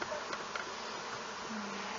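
Honeybees in an open beehive at a teaching apiary during the year's first hive inspection, buzzing as a dense, steady swarm hum that stays close and continuous throughout.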